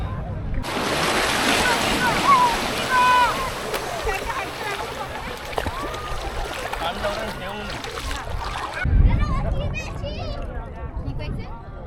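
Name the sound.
sea water at Bakkhali beach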